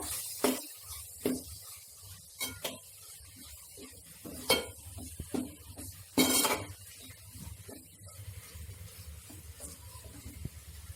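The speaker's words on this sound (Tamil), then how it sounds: "நல்லா வதக்கி விட்டுக்கோங்க." A spoon stirs and scrapes against a pan while country chicken gravy sautés, giving repeated sharp metallic clinks and scrapes over a faint low sizzle, close and fairly loud, with no talking.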